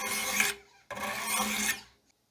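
Two long, close grinding strokes of a knife blade across 600 grit stones on a Wicked Edge Generation Pro 4 sharpener, each a steady rasp ending in a short pause.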